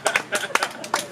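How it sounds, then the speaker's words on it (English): An audience at an outdoor community meet and greet clapping briefly, a handful of close, separate claps over about a second. "That's a clap."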